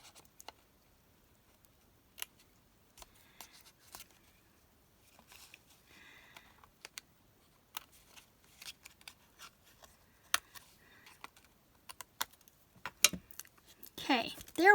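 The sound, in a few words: snipping with scissors while crafting a MemoryDex card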